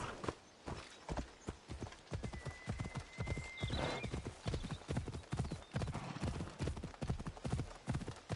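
A horse gallops with fast, steady clip-clop hoofbeats and a brief whinny partway through, ridden in the video game Assassin's Creed Odyssey on the island of Euboea; the hooves stay close and loud throughout.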